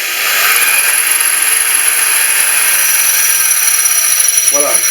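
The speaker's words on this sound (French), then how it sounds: "c'est la mèche à béton qui érafle la faïence" A drill with a masonry bit grinds through glazed wall tile, a loud, steady high-pitched whine that holds continuously, near and dominant, with a voice speaking briefly over it.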